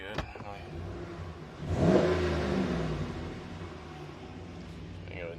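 A 2018 Ram Rebel pickup's engine idling, then swelling into a brief rev before easing back to a steady idle, with a short bit of speech at the start.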